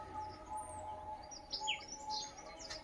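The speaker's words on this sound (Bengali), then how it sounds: "কলসির ভিতর থেকে পাখিগুলো বেরোচ্ছে" Small birds nesting inside a clay water pot give faint, scattered high chirps and tweets outdoors over a soft, steady background hum.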